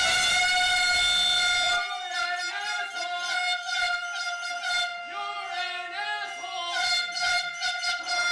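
Loud, sustained air horns blown at a protest, several long overlapping blasts at different pitches that keep sounding for the whole stretch, with drums being beaten alongside.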